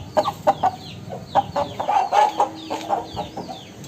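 Hens cluck in a pet room at home, with short irregular bursts of clucking and fowl calls close by, continuing without a break and no one talking over them.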